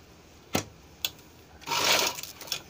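A sewing machine stitches a folded fabric strip along a rounded sleeve edge, heard as two brief clicks followed by a close, steady whirring burst of stitching that fades with a last tap.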